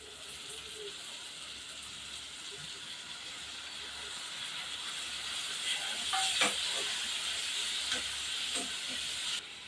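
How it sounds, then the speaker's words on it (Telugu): Tomatoes dropped into a hot pan of oil and turmeric for a Telugu tomato egg curry, giving a steady broad hiss that swells and crackles louder toward the end, with no talk over it. "ఇప్పుడు ఇందులో టమాటోస్ వేసుకోవాలి"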